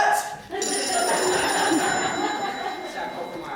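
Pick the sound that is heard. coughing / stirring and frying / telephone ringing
telephone ringing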